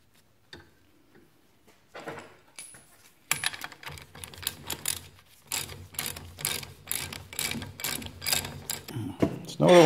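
Metallic ratcheting and threading clicks come from a steering pressure valve being screwed back into a Duramax, close and fairly loud, in irregular bursts that grow busier toward the end.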